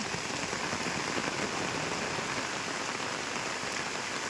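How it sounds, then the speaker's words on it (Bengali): Heavy rain pours steadily onto the ground and surfaces of a rural yard, a dense, even hiss holding at one loud level throughout with no voices. "ভালোই বৃষ্টি হচ্ছে"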